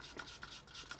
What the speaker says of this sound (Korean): 벽 쪽을 이렇게 긁어서 돌려주면서 다시 저어줍니다